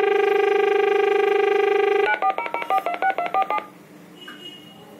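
A BSNL landline telephone gives a steady dial tone, then a quick run of about ten crisp DTMF keypad beeps as a number is dialed, ending in a faint, quiet line.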